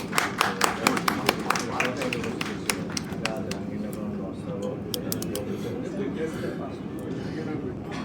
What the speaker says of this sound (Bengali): জাহাঙ্গীরনগর ইউনিভার্সিটির জন্য জোরে একটা হাততালি হবে।